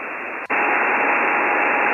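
Steady hiss of HF ham radio static on the 15 metre band, a dense broadband noise that briefly drops out near the start and then returns slightly louder and unbroken.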